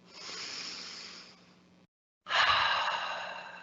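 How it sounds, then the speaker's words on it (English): A single person breathing deeply, a long airy inhale followed by a short pause and a strong, forceful exhale, close and clear with no talk. "I take a deep breath"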